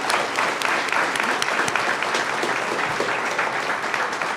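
A warm, dense round of clapping at a school board meeting for a state champion spirit team, steady and fairly loud for several seconds, with a few scattered voices underneath.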